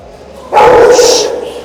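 A single loud close dog bark with a slight whining tail, short and sharp, from a reactive dog during a training session.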